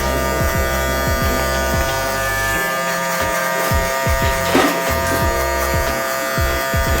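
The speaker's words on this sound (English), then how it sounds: "Clipper's got a good sound to it too, feels good, nice grip." Wahl Vapor hair clipper cutting hair, a loud close steady electric buzz with a bright hum throughout, its low end stuttering and dipping as the blade moves through hair.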